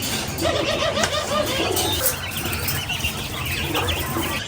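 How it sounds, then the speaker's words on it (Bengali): Laying quails chirp and cluck in a dense, busy chorus as they are moved into a new cage, with rustling and faint wing flutters under steady background noise. "এই কোয়েল পাখিগুলো আছে রানিং ডিম পাড়া কোয়েল পাখি।"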